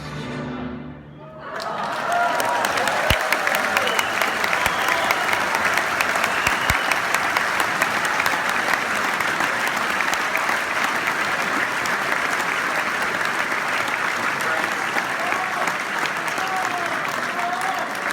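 Loud, sustained applause from a large audience at the end of a symphony performance, swelling quickly after a brief quieter opening and continuing steadily for the rest of the stretch.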